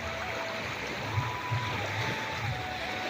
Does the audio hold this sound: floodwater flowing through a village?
yes